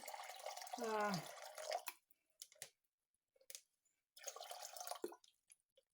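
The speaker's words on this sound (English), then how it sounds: "I'm going to put a Ziploc bag in here, and I'm going to add some water to it." Water poured into a Ziploc bag set over cabbage in a crock for Polish-style sauerkraut, a short close gurgling splash followed by scattered drips and small plastic crinkles.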